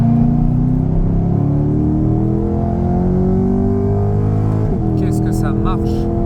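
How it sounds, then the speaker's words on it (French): Corvette C8's big American V8 droning loudly and steadily from inside the car, pitch climbing gradually as it accelerates, with a brief shift-like dip near the end and a voice speaking over the engine. "vous avez l'énorme V8 qui fait un bruit de malade"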